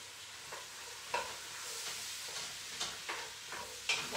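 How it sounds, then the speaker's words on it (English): Onions and leeks softening in a pan are stirred with a utensil, giving several scraping strokes over a low, steady sizzle, quiet and close. "I'm just going to give me onions a stir."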